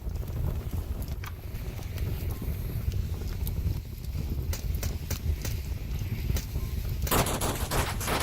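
Gunshots in the VR shooter Onward, a multiplayer match. Scattered sharp reports crack at mid distance over steady wind-like ambience, then a louder burst comes near the end.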